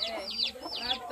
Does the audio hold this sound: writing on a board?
no